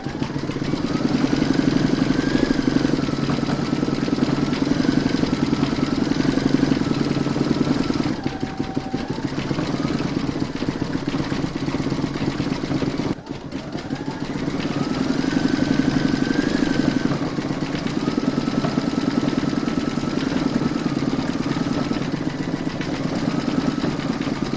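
An embroidery machine stitches a large pig appliqué in the hoop, giving a continuous close mechanical whirr and rapid needle clatter that briefly drops in pitch twice, like a change of stitch speed.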